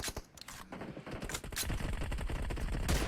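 Dense, rapid bursts of gunfire crackle throughout, loud and continuous like automatic weapons fire in a busy PUBG Mobile battle.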